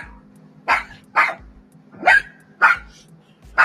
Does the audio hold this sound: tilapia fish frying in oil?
no